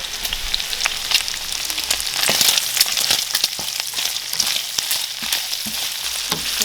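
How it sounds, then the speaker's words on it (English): Bacon frying in a pan on a home stove, a steady dense sizzle and crackle with small pops running throughout, close and unbroken, without talk. "You hear that bacon sizzling?"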